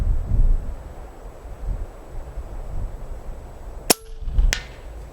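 A Hatsan BT65 Carnivore .30 caliber air rifle fires a single sharp shot outdoors, followed by a second fainter crack or impact report, with wind buffeting the microphone throughout.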